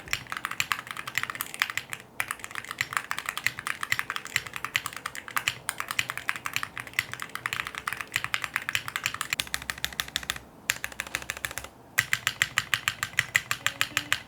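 Fast, steady typing close up on a keyboard with Awekeys Wild Ice keycaps, where a long spacebar gives a metallic ping among the rapid clacks, with brief pauses and no talking.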